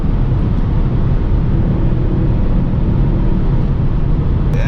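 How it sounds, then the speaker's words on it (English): Steady, loud wind roar inside a 2022 Mercedes E450 convertible moving at highway speed, a constant broadband rush with no voices. "Yeah, you hear the wind noises."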